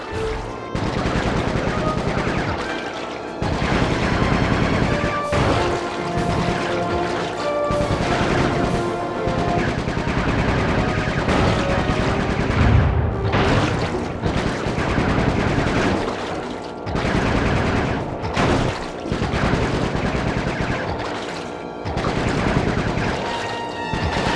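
Dense, continuous gunfire from the stealth-action game Sly 3: Honor Among Thieves, loud rapid bursts and repeated shots filling the whole stretch with only brief gaps.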